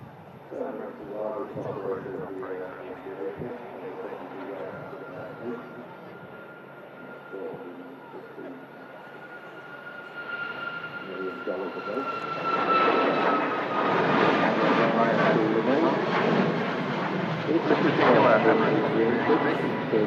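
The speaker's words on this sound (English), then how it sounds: "Another 737 MAX 8200. Ryanair departing there." A Ryanair Boeing 737 MAX 8-200 airliner departs with a steady jet engine roar that swells louder over the second half, while a person talks over it throughout.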